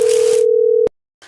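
A steady phone dial tone hums alone for almost a second, then cuts off sharply with a click, followed by silence and a faint return of background noise.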